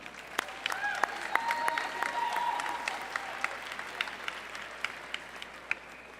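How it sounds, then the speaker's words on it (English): Audience applause fills a hall at the Iowa FFA State Leadership Conference business session, steady clapping from a large crowd with a few sharper claps standing out, sustained for several seconds. "Please give another round of applause for the Auditing Committee."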